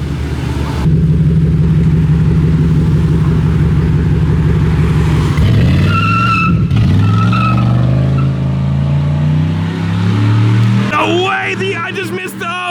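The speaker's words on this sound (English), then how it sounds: "That LS4 Impala SS just did a flyby in front of the cops and got popped" A modified LS4 Impala SS roars past close by at a car show-off meet, engine droning steadily then sweeping in pitch as it flies by, with tire squeal and skidding mid-pass amid crowd noise.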